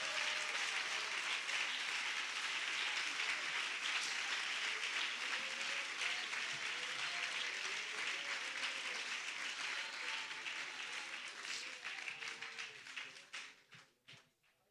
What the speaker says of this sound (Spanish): Denle un aplauso a Jesucristo esta noche.